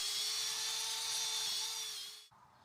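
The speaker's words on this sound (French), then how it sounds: "j'utilise ma mèche tarière de jardin avec ma perceuse" A power drill spins a garden auger bit into the soil to dig holes for shed posts, a steady close high-pitched whine held for about two seconds before cutting off abruptly.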